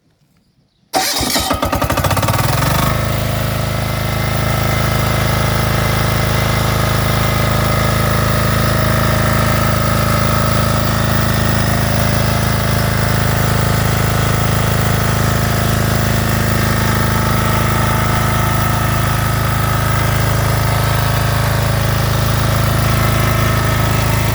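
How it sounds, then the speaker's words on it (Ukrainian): A Dalgakiran DJ 8000 DG-E diesel generator fires up from a manual start after a moment of silence, then settles into a loud, steady, close diesel drone that runs on unbroken. "з допомогою цього прекрасного ручного стартера запускаємо. Що, друзі, не буду вас томити, запустимо. Це дізель, зараз задимить."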